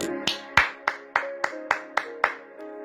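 A church congregation claps in praise of God, nine sharp, evenly spaced hand claps in a steady rhythm, close and clear with tonal ringing between beats and no talking.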